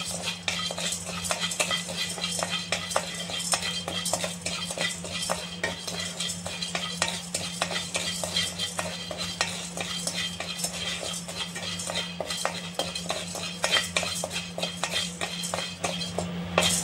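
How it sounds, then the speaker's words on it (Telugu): Mint powder ingredients dry-roasting in a hot pan over a low flame, with a continuous rapid scraping and clinking of a spatula against the pan, steady and close, a faint low hum underneath. "ఇదైనా నేను సిమ్లోనే పెట్టి వేపుతా ఉన్నాను"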